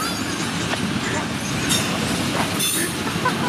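Conrail diesel locomotives roll past on the railroad with a loud, steady rumbling roar, wheel clatter and a thin metallic squeal rising over the din.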